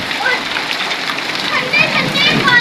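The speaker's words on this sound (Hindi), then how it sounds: "धूप में बारिश हो रही है" Rain falls while the sun shines, a continuous close hiss and patter of drops splashing on surfaces, with a voice speaking over it.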